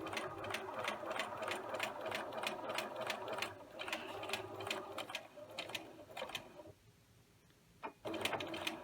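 Close up, a sewing machine runs a quick steady burst of stitches on a tailored shirt placket, pauses briefly, then gives a single stitch and resumes, with no talking.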